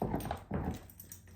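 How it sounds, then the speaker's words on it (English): A dog whimpering indoors, two short whiny bursts close by, fairly quiet, with no voices over it. "so sorry about my noisy dog"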